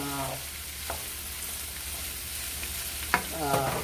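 Cabbage stirred in a hot pan with a steady sizzle and frying crackle, with scraping stir strokes near the start and end, close and moderately loud.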